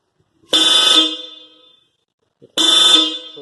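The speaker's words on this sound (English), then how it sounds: "So now just check the horn," Two loud, close blasts from a Hella horn fitted to a Honda Amaze, each held for about a second with a short fade, separated by a two-second pause.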